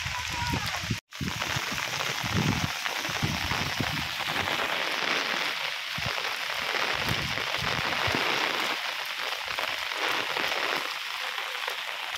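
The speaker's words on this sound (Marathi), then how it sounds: "तर गावाकडे पाऊस पडतो" Rain falls in a Kokan village, a loud, even downpour that hisses without pause, with a short break near the start.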